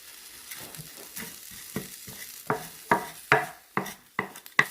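Chopped onion sizzling and being stirred in a hot pan for sopa de fideo with ground beef, with sharp scraping strokes growing louder and more frequent over a steady frying hiss, no voices.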